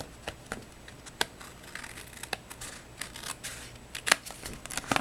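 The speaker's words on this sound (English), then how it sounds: "I'm just going to take my scissors and trim it so that it is all in line" Scissors snip through the edge of a paper Thanksgiving card in a series of crisp, irregular cuts at close range, with soft handling sounds between them.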